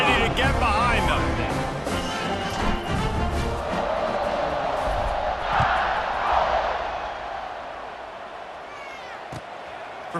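Stadium crowd roaring in the EA Sports College Football 26 video game during an Alabama vs Florida State matchup, a loud sustained swell of cheering that gradually eases off, with thumps and noise beneath it.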